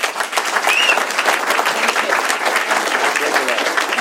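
A room of people at an Alcoholics Anonymous meeting in Doylestown, Pennsylvania gives warm, sustained applause, thick and even throughout, with a short whistle rising briefly near the start.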